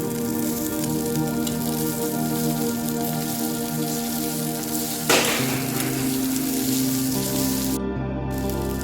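Soaked wheat kurdai goes into a pan of fried onions with curry leaves, bringing a steady close sizzle with a brief louder rustle and clatter midway as the pieces are stirred in.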